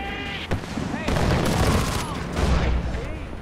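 Heavy explosions and bursts of gunfire in the shooter game Far Cry 4, including mortar blasts. The booms and rattling shots overlap loudly, with a voice speaking briefly.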